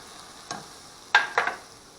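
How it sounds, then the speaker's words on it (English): Soy sauce hits a pan of egg roll filling cooking over medium heat, giving a few short, faint sizzling bursts with quiet gaps between them. "I think it's time to put soy sauce in"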